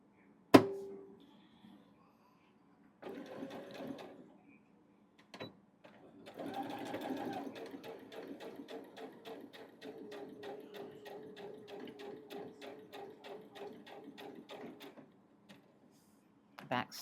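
A sewing machine runs in a steady rapid chatter, stitching a line across a baby quilt, preceded by a few clunks and handling noises, with a sharp click at the start and end.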